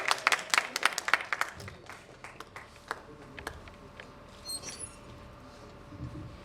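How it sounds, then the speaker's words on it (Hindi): At a mushaira in a hall, sparse and scattered hand claps from the audience come in a quick burst, then thin out to a few faint, isolated claps against quiet room noise. "जोरदार तालियां होती रहें एक बार।"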